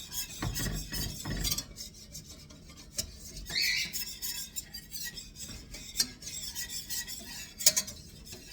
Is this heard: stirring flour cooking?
yes